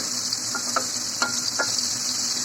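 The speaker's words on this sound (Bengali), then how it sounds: "এই যে পটলগুলো মিডিয়াম ফ্লেমে ভালো করে ভেজে নিচ্ছি" Pointed gourds (potol) fry in oil over a medium flame, giving a steady bright hiss of sizzling with a few soft clicks of stirring, close and continuous, with no speech.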